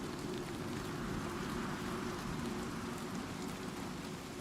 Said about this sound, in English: Why can I still hear the rain?